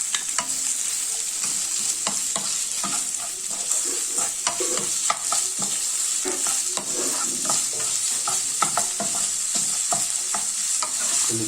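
Onions sizzle steadily in a hot pan while a utensil scrapes and stirs them in frequent irregular strokes, a constant close frying hiss with no voices.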